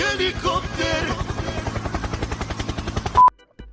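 A Minecraft helicopter thumps with fast, regular rotor chops, loud and close, while a voice talks briefly at the start before the chopping carries on alone and cuts off abruptly.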